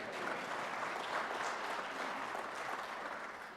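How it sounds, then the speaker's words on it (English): An audience at a governor's budget address applauds for Kentucky bourbon, a dense, sustained clapping that stays strong before easing slightly at the end. "We can clap for bourbon."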